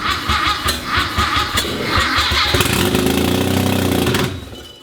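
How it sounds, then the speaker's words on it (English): A 13B rotary engine swapped into a VW Super Beetle cranks with a rapid pulsing rhythm, then catches and runs loudly for about two seconds before cutting out, close to the microphone. "I'm gonna jump start it."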